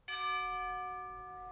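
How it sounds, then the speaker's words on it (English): Single church bell struck once in the morning, a clear metallic toll with bright overtones that rings on and slowly fades, alone against quiet background. "The morning bell tolled"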